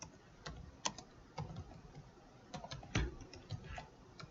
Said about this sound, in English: So anytime that I type code into here